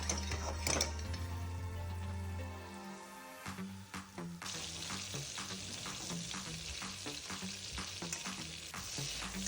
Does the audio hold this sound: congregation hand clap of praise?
no